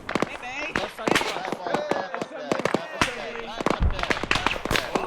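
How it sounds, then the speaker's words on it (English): Rapid bursts of machine gun fire in the Arma 3 military game, sharp cracks scattered in irregular clusters amid loud battlefield noise, with people talking over the shooting. "Machine gun fire."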